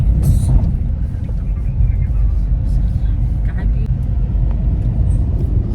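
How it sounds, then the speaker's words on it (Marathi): A car driven along a road in the Konkan near Kankavli, heard from inside as a steady low engine and road rumble, with people talking over it. "गाडी चालवतोय"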